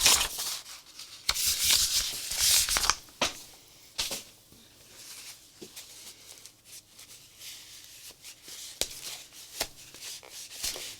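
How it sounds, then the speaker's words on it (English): Paint being scraped and rubbed off a scraper during a mixed media craft project, with repeated dry scratchy strokes and sharp clicks in uneven bursts and no talking. "And I'm just cleaning off my scraper."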